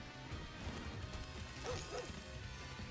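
Gold Hound critter summoned during a Brawl Stars match gives a short dog-like bark, heard once or twice amid busy game effects and crashing sounds.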